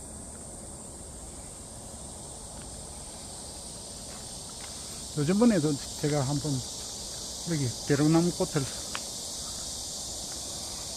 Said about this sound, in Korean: 매미 소리가 많이, 많이 나네요.